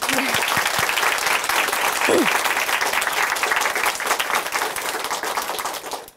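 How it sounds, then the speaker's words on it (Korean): Sustained applause from a church studio audience, steady dense clapping at even loudness that fades out at the very end, with a brief voice near the start and middle. "예수님께 영광의 박수 올려드리겠습니다"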